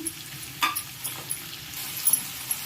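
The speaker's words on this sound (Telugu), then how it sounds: "మసాలా నెమ్మదిగా మనం కలుపుకొని" Masala paste for stuffed brinjal fry being stirred slowly in a pan, a low sizzle under a handful of soft spoon scrapes and light taps at an unhurried pace.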